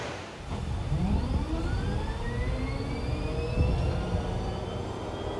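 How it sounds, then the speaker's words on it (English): A tank's gas turbine engine whines and roars steadily, its high whistling pitch rising slowly over a deep rumbling hum, loud and close with no voices. "what you're hearing right now is the turbine sound of the engine"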